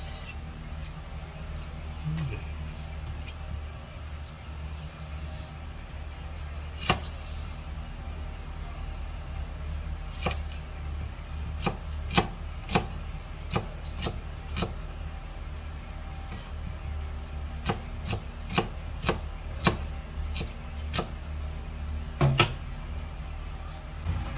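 A knife chops onion on a cutting board, a series of sharp taps coming singly at first, then in quicker bursts, over a steady low background hum.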